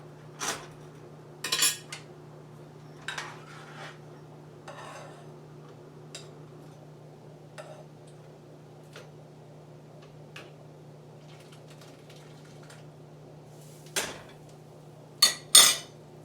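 Dishes and cutlery being handled while serving soup into a bowl: sparse, separate clinks and scrapes over a low steady hum, with a quick cluster of sharper clatters near the end.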